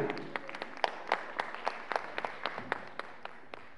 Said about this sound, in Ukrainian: І саме зараз під ваші оплески